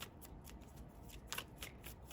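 Tarot cards being shuffled by hand, a quiet run of soft riffling flicks and papery slaps in close, faint bursts with no talk over them.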